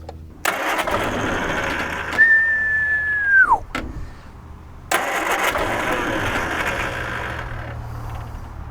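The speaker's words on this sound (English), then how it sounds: "That starter." The starter on a 1978 Triumph Spitfire, abandoned and sitting for years, cranks the engine with a loud, harsh grinding and a rising whine. It cuts off briefly, then cranks again steadily and close by.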